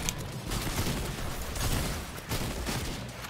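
Lever-action rifle shots in Fortnite, repeated fairly quick reports spaced through the clip amid busy game sound, moderately loud with no clear talk.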